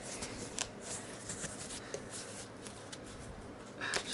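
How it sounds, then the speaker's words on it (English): Thick material for a Halo 5 cosplay build is cut and then torn by hand, making close, scratchy rustling and tearing noises with a few sharp snips and a louder rip at the end. "Just need a seed cut, right? And then it becomes easier to tear."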